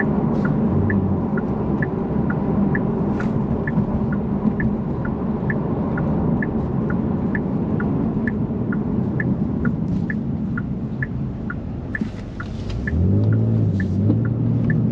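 A 2023 Genesis G70 3.3T Sport Prestige engine rumbles low and steady at low RPM from inside the car, a deep continuous drone with a faint regular ticking above it and a brief dip and swell near the end.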